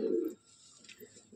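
A Madrasi pigeon in a loft at Sodhpur gives one short, low, close coo, followed by quiet rustling and faint murmurs from the birds around it.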